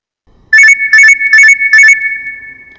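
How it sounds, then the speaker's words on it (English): An alarm rings out loud and close in four sharp electronic bursts, each leaving a steady ringing tone that fades away afterward. "That's the alarm."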